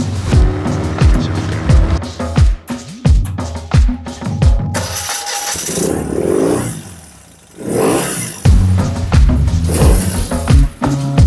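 A BMW R75 cafe racer motorcycle fitted with a sport cam runs loud and close, its engine revving up and down in repeated sweeping bursts with a brief rough, noisy stretch midway.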